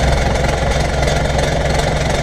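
A John Deere 2140 tractor engine idling loudly up close, a steady low diesel rumble with a faint rhythmic knock and no other sounds.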